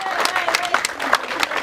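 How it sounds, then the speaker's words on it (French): Applause at a traditional wedding as family members are introduced, brief, uneven clapping with sharp hand claps mixed with voices and a high ringing tone. "Applaudissez."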